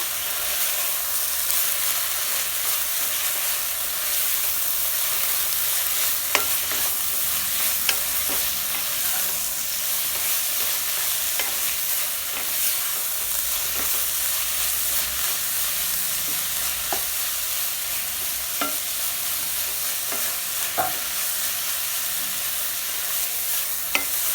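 Spinach poriyal (arai keerai) sizzles steadily in a pan while being stirred, a continuous soft frying hiss with faint intermittent scrapes and clicks of the spoon, heard alone.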